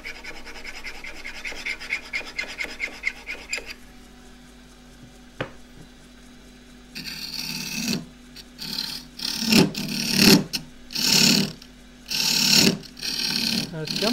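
Steel woodturning tool edge rubbed against a hone by hand, a series of rough scraping strokes with short pauses, close and fairly loud, after a stretch of quieter workshop noise.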